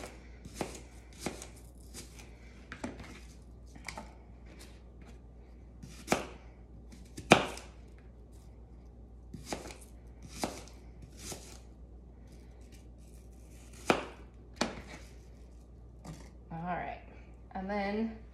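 Knife chopping pecans on a cutting board, a run of sharp, well-spaced chops and taps that come in uneven bursts, fairly close, with a quiet room behind them.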